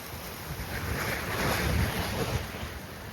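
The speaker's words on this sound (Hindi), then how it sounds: "हवा चल रही बहुत तेज।" Strong wind roars across the microphone on a mountain road near Chitkul village, a steady, loud, gusting rush that swells slightly mid-way with no voices.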